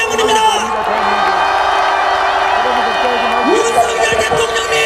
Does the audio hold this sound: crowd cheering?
yes